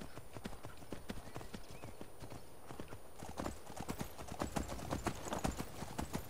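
Horse hooves clip-clopping at a steady walking pace on a road in Skyrim Anniversary Edition, a tamed unicorn, fairly quiet, with a game-like ambient backdrop.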